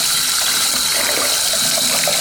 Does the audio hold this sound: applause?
no